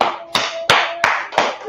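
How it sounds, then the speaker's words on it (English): Hands clap in a slow, uneven rhythm of five sharp, close claps at a class gathering, each a distinct loud crack with brief pauses between. "Clap it up for the class."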